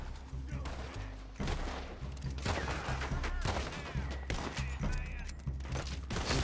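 Gunfire cracks out in a Red Dead Redemption 2 shootout, several loud bursts of shots, shotgun blasts among them, firing in rapid succession after a brief quieter opening and continuing to the end.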